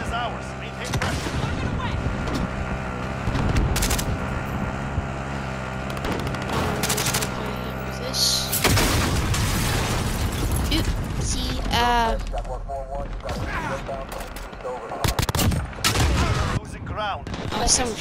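Rapid gunfire and explosions fill a Call of Duty match, with bursts of automatic shots continuing nearly nonstop while players talk over the action.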